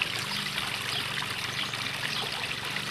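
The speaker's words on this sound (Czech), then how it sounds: "Tam různý vodopádky." Small waterfalls in a rock garden trickle and splash steadily, a continuous close, even wash of running water with no talk over it.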